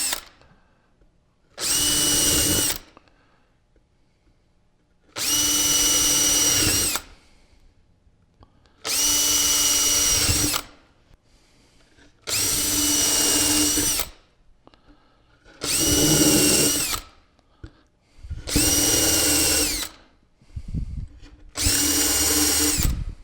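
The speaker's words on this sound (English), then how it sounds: "we're going to use our screw gun now to make it solid" Screw gun driving screws into a wooden nightstand shelf set in a dado, seven loud whirring bursts of about a second each separated by short pauses, close up with no talking.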